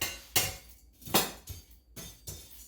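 A pan of toasted seeds comes off a stove, giving several sharp metallic clanks and scrapes spaced about a second apart, close and fairly loud with quiet gaps between.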